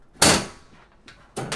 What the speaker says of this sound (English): I like to close the door